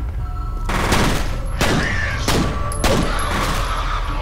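Heavy-recoil gunfire in the shooter game F.E.A.R. rattles in loud, rapid bursts, several volleys separated by brief pauses with sharp impact booms, close and dominant with no talk.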